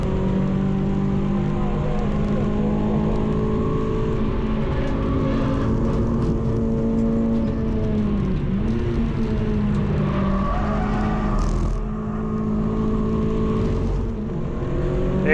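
A race car laps the Donington Park GP circuit on a trackday, its engine a loud, steady in-car drone that holds fairly even, dips briefly near the end and then picks up again, with no talking.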